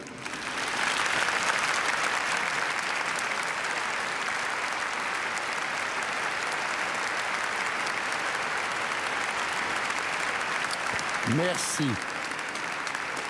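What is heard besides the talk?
congregation applauding the choir at Assumption Mass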